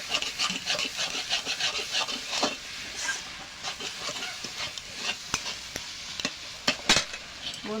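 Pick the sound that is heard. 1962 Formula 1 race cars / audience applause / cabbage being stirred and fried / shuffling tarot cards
cabbage being stirred and fried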